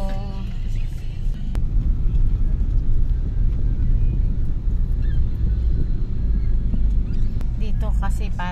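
Dense, slow-moving road traffic in Mandaluyong near Boni Station, a steady close wash of idling and creeping engines with scattered horn honks and a voice talking over it.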